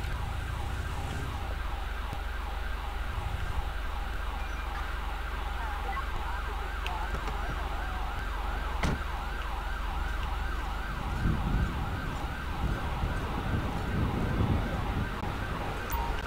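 Wailing ambulance siren in the video game GTA V with the LSPDFR police mod on a snowy highway, a continuous rapid yelping tone under engine rumble, steady and fairly close throughout.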